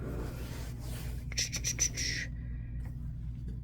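A rotary cutter slices quilt fabric for a quilt block, giving a brief, crisp scraping rasp of about a second against a quiet room hum, with no speech.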